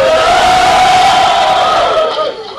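A packed Irish pub crowd at McCaffreys roars in a dense, loud wash of overlapping voices and cheering, sustained throughout and easing slightly toward the end.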